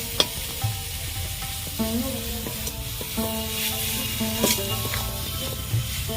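A sweet papaya and coconut mixture is stirred in a pan for a Saraswati Puja dessert, with a steady low sizzle and repeated scraping strokes of the spoon close by, without any talk.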